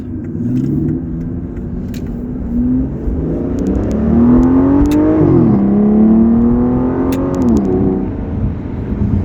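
A 2011 Aston Martin Rapide's V12 engine revs up and down in long rising and falling sweeps, loud and close, with a deep throaty roar throughout.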